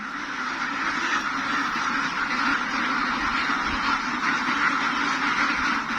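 Flock of six-month-old native itik ducks in a Philippine pasture quacking continuously, a dense, steady chorus of overlapping calls close by, with no talk over it.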